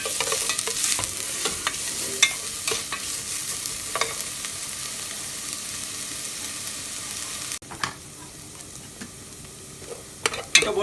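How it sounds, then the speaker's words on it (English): Chopped onion for chana masala sautés in a pan with a steady close sizzle, broken by occasional clinks and scrapes of a spoon stirring, then the frying quiets somewhat near the end. "let it saute for few minutes till it becomes golden brown"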